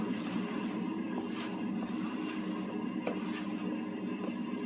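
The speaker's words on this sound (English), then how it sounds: "Take your dustpan and put it up against your countertop and wipe all the excess flour into it." A towel or hand wiping excess flour across a kitchen countertop into a dustpan, making a steady, close, dry rubbing and scraping sound with a few faint swishes, no voices.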